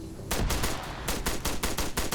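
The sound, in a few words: gunshots in a video game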